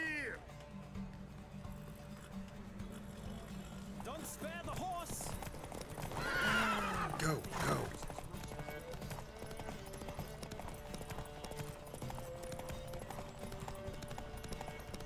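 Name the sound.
horses galloping and neighing in a race, The Witcher 3 video game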